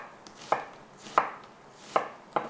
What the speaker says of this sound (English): we have a big chunk of onion here. I will cut the root end off there and slice that.